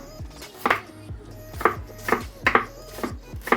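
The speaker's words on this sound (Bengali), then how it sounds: "পেঁয়াজ কেটে নিলাম এভাবে" A knife chops onions on a board, with about eight sharp, separate knocks in an uneven rhythm, close and clear, with no voices.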